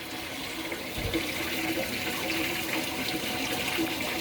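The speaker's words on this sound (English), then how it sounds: "now we are rinsing" A washing machine runs its rinse cycle with water rushing steadily into the drum, continuous and close like a filling sink, with a brief low thump near the start and no talking.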